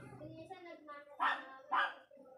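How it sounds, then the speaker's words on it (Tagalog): A dog barks twice in quick succession, loud and close, amid other faint voices and yips. "Ingay nung aso ng ate ko."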